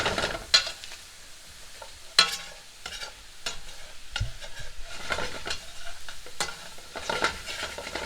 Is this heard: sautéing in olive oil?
yes